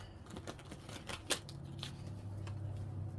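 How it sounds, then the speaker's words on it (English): Tarot cards being shuffled by hand make quiet, irregular crisp snaps and riffles, with one sharper flick partway through, close and faint with no talk. "I wanted to shuffle those really good."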